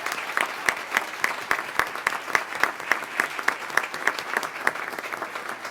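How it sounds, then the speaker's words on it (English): A school board meeting audience gives students and their parents a round of applause, many hands clapping in a rapid, uneven patter of sharp claps that carries on steadily throughout. "applause one last time."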